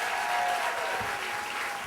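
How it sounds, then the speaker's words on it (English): Storytelling-event audience applauding as a storyteller comes up to the stage, a brief, full burst of steady clapping with no talk. "Big round of applause for Vicki as she comes up."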